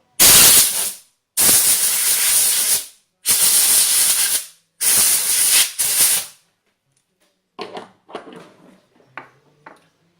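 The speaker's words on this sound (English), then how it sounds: "Get some compressed air, clean it up." Compressed air blasting to clean a Tecumseh engine crankcase part, four loud close hissing bursts of a second or so each, followed by fainter short puffs and clatter.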